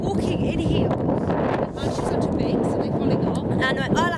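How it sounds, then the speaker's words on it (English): Strong gusty wind buffets the microphone on a Blackpool street, a constant loud low rumble with a voice faintly underneath. "It's rather windy in Blackpool."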